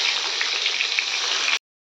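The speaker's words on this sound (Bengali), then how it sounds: "এখানে ওই তেলের মধ্যে দিয়ে দেব বেগুনগুলো, একটু হালকা করে ভেজে নেব।" Salted brinjal pieces hit hot oil in a pan with a bright, steady sizzle up close, which then stops abruptly.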